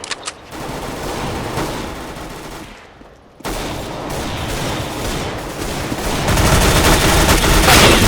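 Dense bursts of automatic rifle fire and scattered gunshots from a Counter-Strike: Global Offensive firefight, loud and continuous with a brief lull near the middle before the shooting resumes even heavier.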